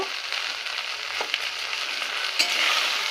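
Taro leaves frying with turmeric, salt and a little chili powder, stirred in a pan: a steady close sizzle with a few scraping strokes, loudest toward the end.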